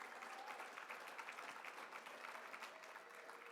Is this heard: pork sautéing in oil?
no